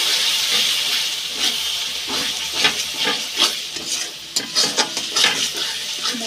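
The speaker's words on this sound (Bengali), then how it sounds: "জিরের গুঁড়ো দিয়ে দিলাম, দিয়ে এবার মশলাটাকে আমি কষিয়ে নেব" Spice mix with ground cumin stir-fried in a pan, giving a steady hiss of sizzling oil with scraping spatula strokes that grow more distinct toward the end, close and moderately loud, with no voices.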